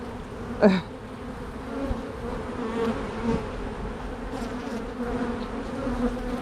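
Honey bees hum steadily around an opened hive during an inspection, a continuous soft drone with one brief louder buzz as a bee passes close.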